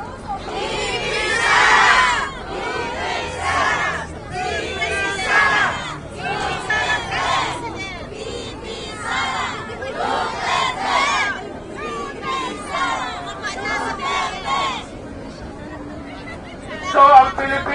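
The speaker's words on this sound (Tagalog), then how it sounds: "Pwede ko bang marinig ang sigaw na BP Sara?" A crowd of supporters at a rally for Vice President Sara Duterte among Filipino workers abroad shouts a loud, rhythmic chant again and again, the bursts of voices rising and falling in steady waves.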